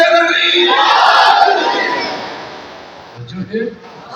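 Large crowd at a religious gathering honoring Ghazi Abbas roars the Naara-e-Haidari slogan together, a loud sustained collective shout that fades over a few seconds, followed by a few scattered quieter voices.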